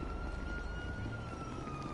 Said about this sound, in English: Sirens all over the place.